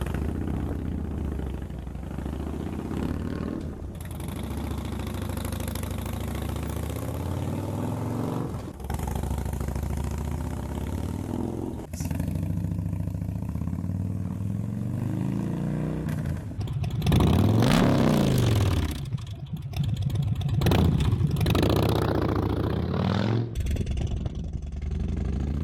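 A car engine on its stock exhaust idles steadily, then revs up sharply several times, loud and close, with no talk over it.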